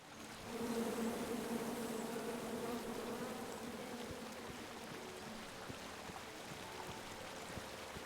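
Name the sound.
bees buzzing in the video game King's Quest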